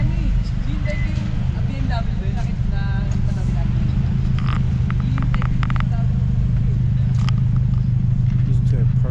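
A Lexus IS300 with a single exhaust idles with a low, steady purr at an underground car meet, close by, with people talking over it throughout.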